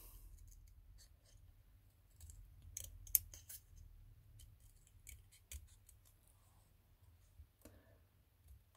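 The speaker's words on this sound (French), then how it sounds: "je vais le découper" Scissors cut around a paper tag with scattered quiet snips and crisp clicks over a low background hum, close up and faint.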